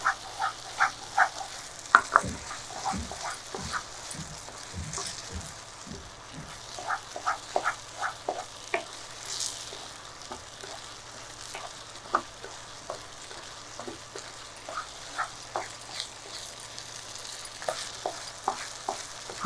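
Sheera, a thick semolina sweet, stirred and turned in a pan: a soft, continuous low sizzle under repeated rhythmic scrapes and taps of the spoon, close and fairly quiet.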